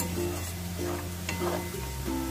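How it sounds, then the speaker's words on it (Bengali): Onions frying in a pan for a restaurant-style chicken curry, a steady soft sizzle with faint stirring scrapes and a low background hum, no talking. "পেঁয়াজটাকে আমি ভালো করে একটু ভেজে নিয়েছি।"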